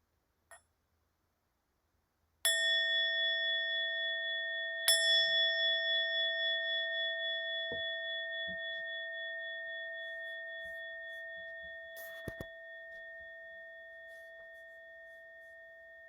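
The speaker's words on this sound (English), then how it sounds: "And with the sound of the bell, we'll bring this" A meditation bell is struck twice, a few seconds apart, and each strike leaves a long, pure, steady ring that slowly fades into silence. A few faint clicks sound near the end as the tone decays.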